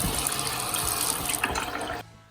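Water runs hard from an RV kitchen tap switched between hot and cold, a steady rushing stream that is cut off abruptly near the end.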